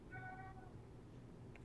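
A pet cat gives a single drawn-out meow, fairly faint, over a low background hum.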